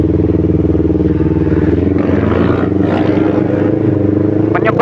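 Kawasaki Ninja 250 FI motorcycle engine running rough, a steady loud idle drone with a throbbing, uneven pulse lasting throughout, close up and alone with no voices.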